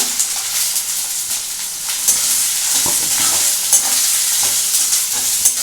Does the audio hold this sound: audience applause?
no